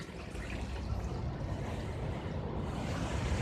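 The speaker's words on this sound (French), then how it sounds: "Petit, petit courant, petite cascade." Small stream and little waterfall by the sea at Cueva la Vaca in Tenerife, a faint, steady wash of running water with a low rumble of surf underneath and no talking.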